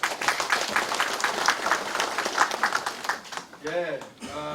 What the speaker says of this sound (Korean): 동의하시면 박수 한번 해주세요